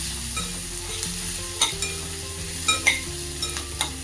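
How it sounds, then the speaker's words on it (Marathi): Sliced onion frying in garlic-ginger paste for a spicy ridge gourd chutney, a steady close sizzle with occasional scraping stirs and light utensil taps throughout. "लसण आल्याची पेस्ट चांगलं असं फ्राय करू त्याच्यामध्ये मी थोडासा कांदा उभा चिरून टाकलेला आहे"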